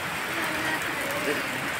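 A lighter but steady rain patters continuously nearby, an even wash of noise with no distinct drops standing out.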